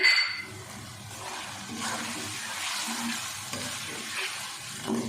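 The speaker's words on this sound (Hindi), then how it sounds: "गोश्त हमारा अच्छे से भुन गया है। इसको 5 मिनट के लिए अच्छे से आप भून लें।" Beef sautéing and being stirred in a pot for gobhi gosht, a steady broad sizzle with scraping stir strokes and light clinks throughout, close and fairly even in level.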